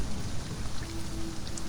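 Rain falls during a storm in the survival video game Sheltered, a steady, even wash of hiss with no breaks, moderately quiet.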